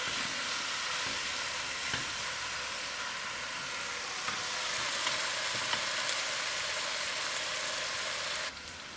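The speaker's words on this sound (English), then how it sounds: "so it can fry out the fat that we have in the meat." Mutton sizzles and fries in its own rendered fat in a pot for biryani, a steady dense crackle throughout with faint clinks, close and loud, with no talking.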